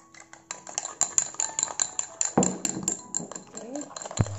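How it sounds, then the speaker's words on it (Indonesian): Dalgona coffee made with Nescafe being whisked by hand with a fork in a cup, giving quick, light metallic clinks and scraping taps against the sides, with a voice talking over them. "bisa aja kok dikocok pakai garpu dengan alat yang ada di rumah aja."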